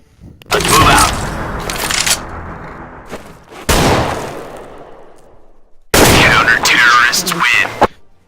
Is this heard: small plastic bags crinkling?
no